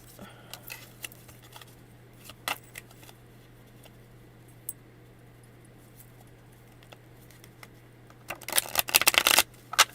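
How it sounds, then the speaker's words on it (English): Tarot cards shuffled by hand during a live reading: a quiet room with scattered small taps, then a close, dense riffling burst of cards in the final second or two. "I very seldom shuffle my cards this way"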